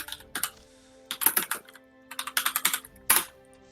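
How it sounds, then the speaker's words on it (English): Fast typing on a computer keyboard, close clicky key taps in uneven bursts with short gaps, no voices. "I was typing"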